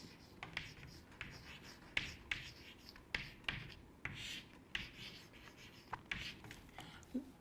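Handwriting on a board or paper during a physics lecture, a steady series of quiet scratching and tapping strokes in irregular rhythm, close and faint, with no talking over it.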